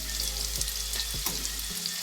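Sausage sizzling and frying in a pan, a steady crackling hiss with small pops, close and alone.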